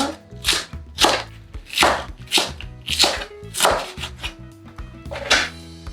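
A knife chops green onion and mushrooms on a cutting board in regular bursts of sharp thwacks, about seven strokes with steady rhythm and faint music underneath.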